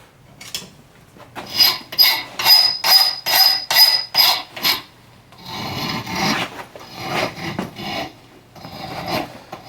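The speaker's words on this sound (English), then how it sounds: "Come along the edge and just deburring it so there's no burrs or anything in my way." A file rasps in steady strokes along the edge of a steel track bicycle fork, deburring it: about seven loud, even back-and-forth passes, then rougher, scattered scraping.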